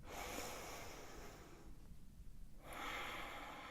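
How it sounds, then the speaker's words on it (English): Close, audible breathing during a held yoga dancer pose: a long airy exhale, a brief quiet pause, then a steady inhale, soft and intimate with no speech. "One more breath here."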